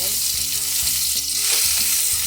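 A steak fries in a non-stick pan, giving a loud, dense, continuous sizzle close up, with a faint low hum underneath and no talking.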